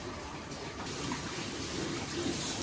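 Water rushes and gurgles steadily into an aquarium filter unit, an Evolution Aqua K+ Advanced, as air is bled from it. The flow is fairly quiet and continuous, swelling slightly partway through.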